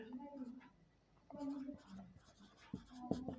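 A pen writes on a board during a maths lecture, making short, faint scratching strokes in several separate bursts, mixed with quiet talking close by.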